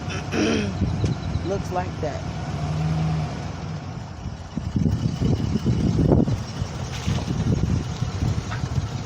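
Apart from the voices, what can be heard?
truck reversing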